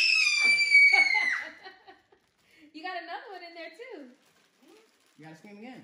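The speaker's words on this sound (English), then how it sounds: "You gotta scream again." A child lets out a loud, high scream at a birthday gathering, then breaks into laughter and chatter as others talk nearby.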